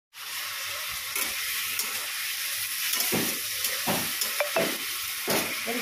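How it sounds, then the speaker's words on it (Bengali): Fried paneer bubbles in hot water in a pan, giving a steady close hiss and sizzle with occasional stirring scrapes and spoon knocks. "এখানে দেখো পনির ভেজে গরম জলে উঠছে"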